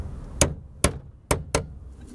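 Four sharp metallic hammer blows ring out on a pipe slip coupling, spaced unevenly with short pauses between, loud and close.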